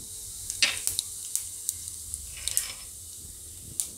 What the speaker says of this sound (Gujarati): તો તેલ આપણું ગરમ થઈ ગયું છે, એમાં આપણે પહેલાં જીરું નાખીશું.